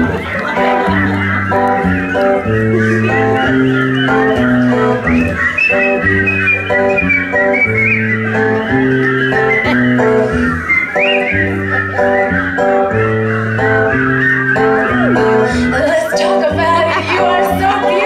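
A live concert audience in Santa Cruz whistles together in unison, a loud sustained melodic whistle over steady instrumental music with a rhythmic bass pattern throughout.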